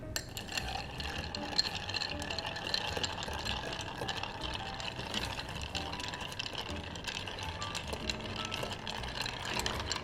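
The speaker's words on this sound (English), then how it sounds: "Give it a stir." A Hemingway-style cocktail made with Martini Rubino and Angostura bitters is stirred over ice, a steady close clinking and swirling of ice in a glass that runs continuously without pause.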